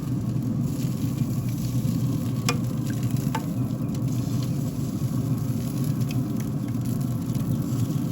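Pork belly burnt ends sizzle steadily as sauce is added, a constant loud crackling fry with a low rumble underneath and a couple of sharp pops, close up with no voices.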